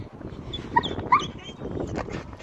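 A dog whimpers and cries in thin, high whines while out on a walk in a graveyard, several squeaky yelps rising over rustling and shuffling footsteps close by.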